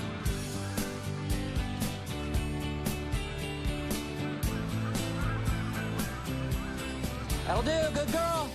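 A flock of Canada geese honks repeatedly, the calls overlapping in a dense, rhythmic chorus that runs over a steady musical background.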